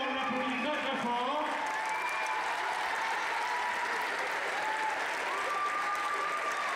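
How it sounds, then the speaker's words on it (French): Audience applause at a fencing club event for mixed team foil, a dense, sustained round of clapping from a crowd while a voice speaks over it near the start. "Pierre, on l'applaudit très très fort."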